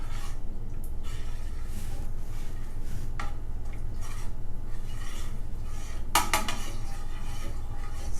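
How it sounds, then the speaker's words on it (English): A spoon scrapes and taps around a bowl while blending keto fat bomb ingredients until smooth, with sparse clinks and one sharper knock near the end over a low steady hum. "Especially with the stirring."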